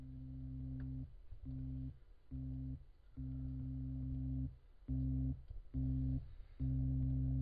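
An electronic beat made in LMMS music software on Fedora Linux: low, steady sine-like tones switching on and off in a choppy rhythmic pattern, fairly quiet and without talk.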